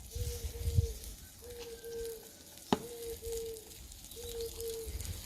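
Foie gras sears in a hot pan with a steady, quiet sizzle and occasional stirring or scraping, plus a sharp tap midway, close-up in a kitchen with no talking.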